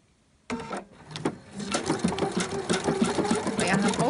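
A sewing machine runs a seam with glowing, slightly luminous thread on reflective tape after the stitch pattern is reset, starting from silence and settling into a steady, close, rapid mechanical whirring that continues to the end.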